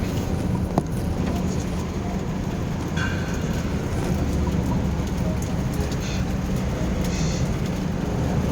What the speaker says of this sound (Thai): ฝนตกเยอะเลยครับ